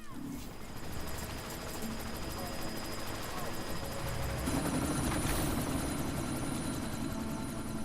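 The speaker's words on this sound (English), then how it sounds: "You've got to stop that chopper." Helicopter rotor and engine drone in the video game Deus Ex: Mankind Divided, a steady, dense throb that swells louder partway through, with game noise and talk layered over it.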